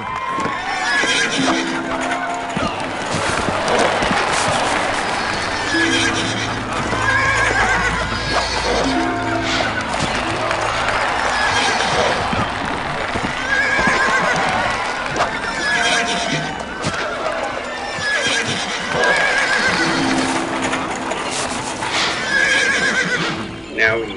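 Horses in the Zeus: Master of Olympus city-building game neigh and whinny repeatedly over clip-clopping hooves during a race, with a busy crowd murmuring underneath.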